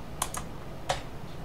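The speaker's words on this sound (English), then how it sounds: "you do that by hitting O on the keyboard" The O key is tapped a few times on a computer keyboard, producing faint, close clicks spaced unevenly within a quiet room.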